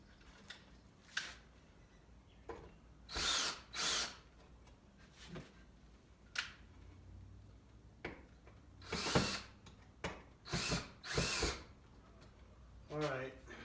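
Power drill driving screws into pegboard being mounted in a garage, several short whirring bursts separated by pauses, close and fairly loud, with a person talking in between.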